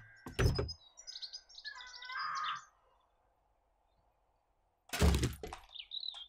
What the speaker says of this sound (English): Where's that bird?